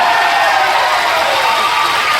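Large crowd at a Shiv Katha religious gathering in Valardi applauding loudly, a dense, continuous roar of clapping and cheering that fills the whole moment close and strong.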